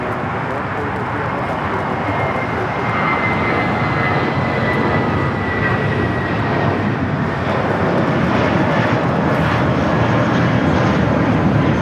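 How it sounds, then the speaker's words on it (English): A United Airlines A320 jet taking off at LAX, its engines making a steady, loud broadband roar that holds throughout with a faint whine above, while a voice talks over it. "This is United Airlines 319 taking off to Puerto Vallarta on the A320."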